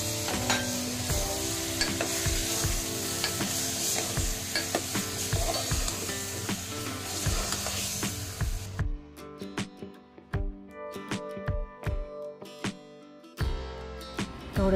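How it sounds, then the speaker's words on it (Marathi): Grated tomatoes sizzle loudly in a frying pan while being stirred, a dense continuous hiss with scraping strokes that suddenly drops away, leaving sparse clicks and short stirring scrapes near the end. "यात आपण किसलेले टॅमॅटो टाकून घेऊया"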